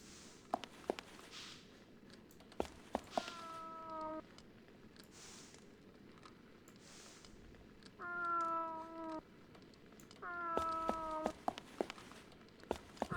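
A cat in the video game Fragile Dreams gives three separate meows, fairly faint and widely spaced, with soft taps and footsteps between the calls.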